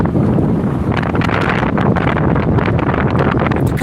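Strong wind buffets a handheld microphone on the Blackpool seafront, a loud, continuous rumbling roar with constant gusty flutter that fills the whole stretch, no voices heard.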